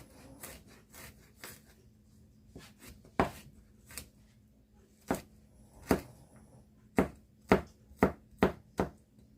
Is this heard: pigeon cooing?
no